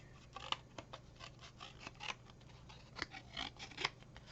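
Scissors snip a faux wood cover piece down to size, a series of quiet, close cutting crunches and rustles at an irregular pace.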